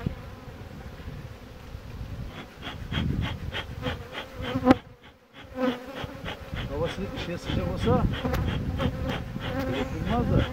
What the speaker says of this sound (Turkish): Fazla oynarsak bu arı her tarafını ısırır.